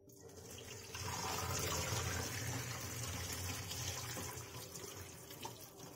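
Boiled noodles are drained as water pours steadily, a continuous close splashing rush that swells after the first second and runs on alone.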